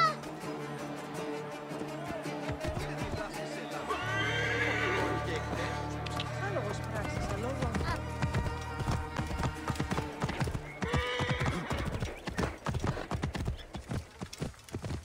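In the game Assassin's Creed Origins, a horse neighs loudly and hooves clip-clop in repeated beats, mixed with game sounds and character voices.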